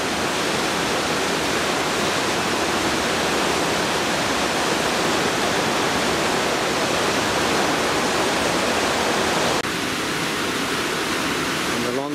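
Water of the River Ogmore pours over a weir in a loud, steady broadband roar that fills the whole stretch, shifting slightly in tone near the end, with no talk over it.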